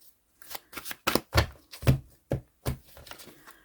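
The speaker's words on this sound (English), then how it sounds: "A few more shuffles" Tarot cards get shuffled by hand in a quiet room, a series of crisp riffling bursts in an uneven rhythm, close and clear with no voice over them.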